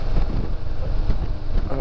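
Strong wind buffets the microphone on a windy stretch of coast near Les Sables d'Olonne, a steady low roar with gusty bursts, loud and close throughout.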